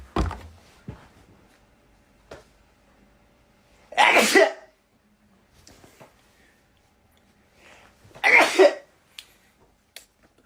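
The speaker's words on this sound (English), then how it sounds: "Oh god, I have to sneeze." Two loud, close sneezes about four seconds apart, each a sharp explosive burst, with small breathy sniffs and faint noises in the quiet between them.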